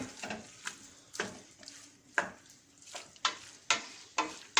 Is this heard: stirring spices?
yes